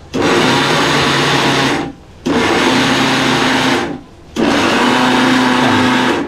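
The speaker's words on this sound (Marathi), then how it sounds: "आता याची आपण पावडर करून घेऊया मिक्सरला" A mixer grinder powders roasted peanuts in three loud, close bursts of whirring motor noise, each about two seconds long and separated by brief pauses as it is switched off and on.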